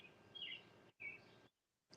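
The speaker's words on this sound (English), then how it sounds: "You can hear those birds chirping." Faint small birds chirp outdoors in a few short bright bursts separated by quiet gaps, distant and soft against a low background hush.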